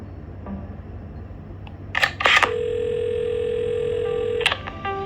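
A steady electronic telephone call tone in the video game Assemble With Care follows a few soft clicks and holds evenly for about two seconds before cutting off, over a quiet low hum.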